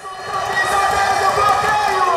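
An animated Brazilian crowd at a hard-fought volleyball match between club teams, including Cruzeiro, cheers in a steady, dense roar of voices that stays loud throughout the short stretch.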